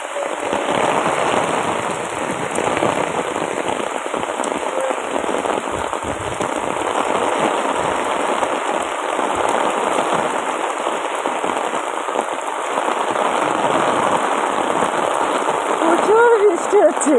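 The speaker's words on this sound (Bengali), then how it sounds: "প্রচুর বৃষ্টি হচ্ছে।" Heavy rain beats down outdoors on a field path, a loud, dense and constant patter close to the recorder that holds steady throughout, with a voice briefly audible near the end.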